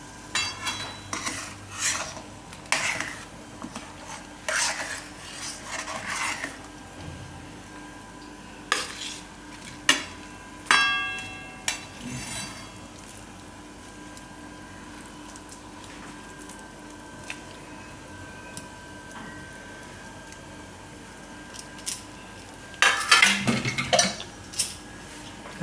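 A spoon scrapes and clinks around a pot as grated sweet potato is stirred into boiling milk, in irregular bursts of stirring with quieter bubbling gaps between, close and alone without talk.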